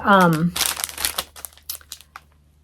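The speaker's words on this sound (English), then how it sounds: "Sorry for the crinkling." Plastic packaging from a cross-stitch craft haul crinkles close to the microphone in short, sharp bursts that fade, following a brief spoken remark.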